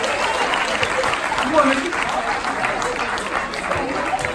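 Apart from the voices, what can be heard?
audience applause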